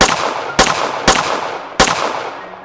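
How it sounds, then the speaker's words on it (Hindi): Four sharp gunshots from a pistol in a French film scene, fired one after another at uneven intervals, each cracking loud and close, with a decaying echo between shots and no talking. "तभी लिली उस पर एक के बाद एक फायर करने लगती है"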